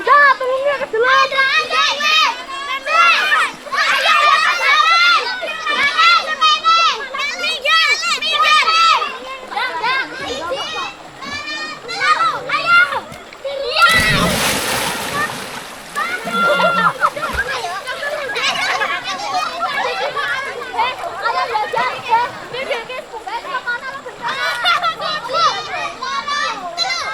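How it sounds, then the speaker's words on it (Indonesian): Children bathe in a river, their shrieks, shouts and chatter filling the scene almost continuously, with a burst of water splashing in the middle and voices talking throughout. "Kita lagi mandi sungai."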